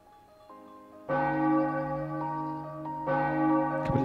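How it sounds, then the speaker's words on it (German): A bell tolling in the video game Ara Fell, a loud resonant church-like bell struck twice, each strike ringing out with long sustained overtones, alone without talk. "Ich hasse diese hässliche Glocke."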